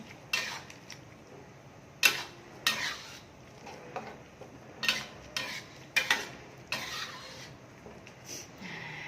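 A utensil scrapes and clanks against a pan in irregular strokes while stirring in ground coriander, with a faint sizzle underneath, close and clear.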